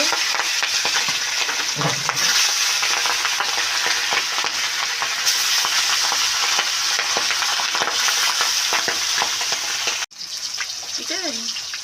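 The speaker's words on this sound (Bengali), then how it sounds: "সরিষা তেলটা দিয়ে রান্না করতে হবে এটা তেলটা আমার গরম হয়ে গিয়েছে এখন মাছগুলো ভেজে নেব" Pabda fish frying in hot mustard oil make a loud, steady, close sizzle with crackling spatter that runs throughout, briefly cutting out near the end before resuming.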